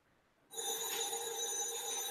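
A telephone ringing starts abruptly about half a second in and continues steadily and fairly loud, with a sustained electronic ring tone and no speech.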